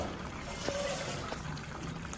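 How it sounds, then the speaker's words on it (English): Water poured into a pot of Nigerian egusi soup that has started to burn on the bottom, a steady trickling, splashing liquid sound close by, continuous with faint kitchen clatter. "So I'm adding water now."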